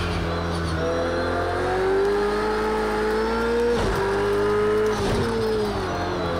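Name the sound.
GT3 race car engine from the video game Project Cars 2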